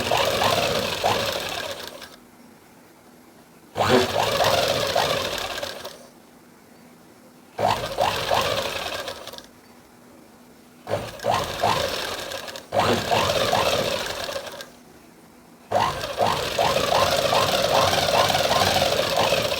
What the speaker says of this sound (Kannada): ಇದನ್ನು ಡಬಲ್ ಸ್ಟಿಚ್ ಹಾಕೋಬೇಕಾಗ್ತದೆ.